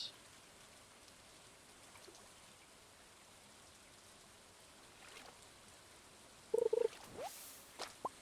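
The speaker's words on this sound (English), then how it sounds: "It's a lovely rainy day." Steady rain in the farming video game Stardew Valley, a faint even wash of patter running throughout, with a few brief louder chirps and clicks near the end.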